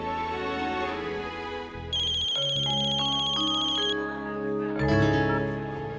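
A phone rings for an incoming call with a loud, steady electronic ringtone melody, carried along by layered sustained tones.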